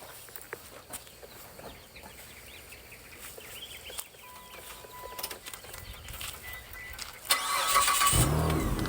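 Quiet outdoor ambience with faint noises, then near the end a Mitsubishi Eclipse engine cranks and catches, roaring into a steady idle.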